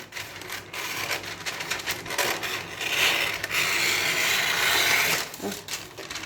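Greaseproof wax paper is cut for homemade paper soap, producing close, crackly rustling and crisp slicing noises that swell and fade over several seconds.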